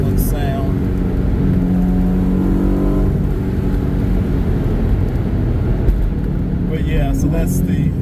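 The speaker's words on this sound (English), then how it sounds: "it was straight piped with Borla Sport exhaust, and it sounds really good" Steady engine and exhaust roar from a BMW M3 with a straight-piped Borla Sport exhaust, loud and continuous with shifting pitch as revs rise and fall, while someone talks over it.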